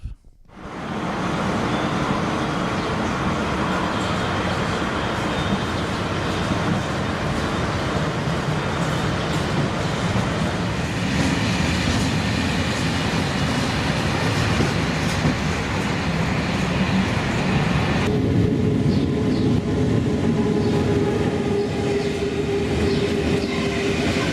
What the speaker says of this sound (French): Le TGV en provenance de Paris pour Milan entre en gare.